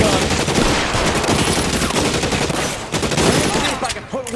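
Rapid bursts of gunfire from the video game L.A. Noire, loud and continuous with dense overlapping shots throughout.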